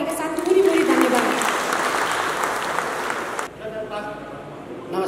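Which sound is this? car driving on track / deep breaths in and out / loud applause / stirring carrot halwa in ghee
loud applause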